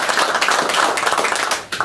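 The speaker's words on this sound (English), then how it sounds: "please give him a round of applause too" Audience applause at a trucking company's 2018 driver associate and employee of the year awards ceremony, dense steady clapping throughout, dipping briefly near the end.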